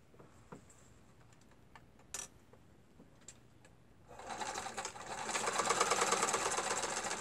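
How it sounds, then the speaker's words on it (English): A sewing machine runs zigzag stitching along one side of a torn book page for a mini junk journal, starting after a few seconds of faint clicks and then whirring steadily and fairly loud until the end. "I want to take this to my sewing machine and then zigzag stitch over here on this one side."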